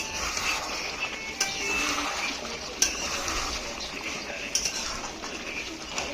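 A metal spoon stirs and turns chicken curry in a pot, with repeated scraping and clinking against the cookware and a few sharper knocks, continuous and close over several seconds.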